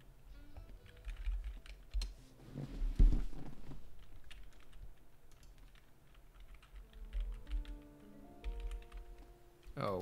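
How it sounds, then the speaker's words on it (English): Typing on a computer keyboard: a steady run of quick, close key clicks with a few heavier taps, set over low background hum and faint room sounds. "what am I typing in for?"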